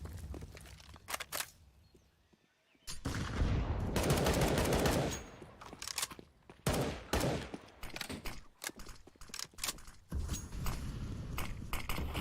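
Bursts of automatic gunfire in a CS:GO esports match, a player spraying through a smoke grenade at close range, with loud rapid volleys broken by short pauses and quieter clicks in between.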